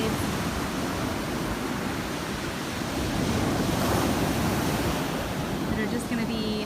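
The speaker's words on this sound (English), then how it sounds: "Look at these ginormous waves." Large ocean waves break on a Gulf beach after Hurricane Sally, making a loud, continuous roar of surf mixed with gusting wind noise.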